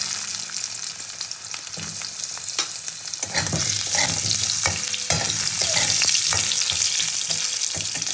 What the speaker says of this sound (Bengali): এবার এই মাছ ভাজার তেলে আমি আলু বেগুনটাকেও একটু ভেজে নেবো।